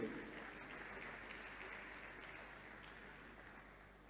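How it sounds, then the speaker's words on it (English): Audience applause at a University of Lagos ceremony rolls on as a steady wash of clapping, faint and distant, with no voices over it. "A round of applause, please, for him."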